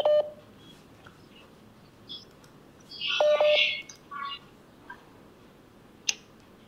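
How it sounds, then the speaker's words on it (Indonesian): Electronic phone tones and short beeps from a telephone being dialed, a brief tone at the start, a louder cluster of tones in the middle and a sharp click near the end, close and isolated with no speech. "saya kan telepon Miss Yuni"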